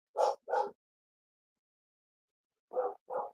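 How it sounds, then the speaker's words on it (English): Two pairs of short, close dog barks separated by a silent pause, each pair a quick double bark with no other sounds around them. "What are they barking at?"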